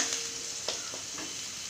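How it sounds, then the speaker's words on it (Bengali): Spice paste with a little water and tomato sizzles and fries in a pan, with a soft steady hiss broken by a few brief stirring scrapes, close and fairly quiet. "মশলাটাকে ভালো করে কষিয়ে নিব।"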